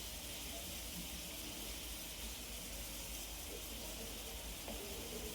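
Sliced onion sautéing with salt in a pan for tomato chutney, a continuous soft hiss and crackle throughout, steady and fairly faint, with no one speaking.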